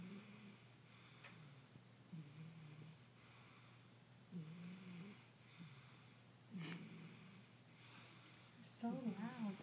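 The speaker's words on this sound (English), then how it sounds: "Don't wake her up. Just let her snore." A sleeping kitten snores close by, a steady rhythm of soft, rasping breaths repeating roughly every two seconds over low background hum, with a brief louder snort near the end.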